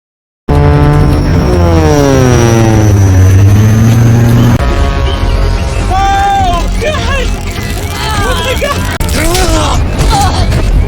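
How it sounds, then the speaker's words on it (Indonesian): A loud airplane engine roars, its pitch sweeping downward as it dives, followed by shifting whines and rushing noise. "pesawat itu melaju ke arah bawah"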